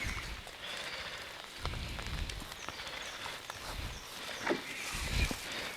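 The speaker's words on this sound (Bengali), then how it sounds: "যেহেতু অল্প অল্প বৃষ্টি হচ্ছে" Light rain falls steadily across a Bombai mango orchard, a soft, even patter at moderate distance, broken by a few brief, louder knocks and rustles near the end.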